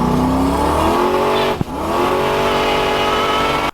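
A turbocharged Chevrolet Camaro accelerates hard nearby, its loud engine note climbing steadily, dipping briefly during a quick shift, then rising again before cutting off abruptly.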